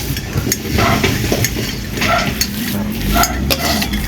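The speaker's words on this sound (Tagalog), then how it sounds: "Kahaluin na para maging ganyan." Cassava suman mixture is stirred in a pot, with a steady scraping and sloshing texture running throughout at close range, accompanied by faint clinks of the utensil against the pot.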